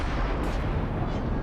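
Warship guns firing in a naval combat video game, heard as a short, loud, dense burst of booming blasts with rumbling low-end, packed closely together and alone without talk.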